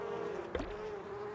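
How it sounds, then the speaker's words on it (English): Insect buzzing in the video game Donut County, a steady droning hum that runs through the whole short stretch at moderate level, with one brief flicker of noise midway. "Was he hunted by bees?"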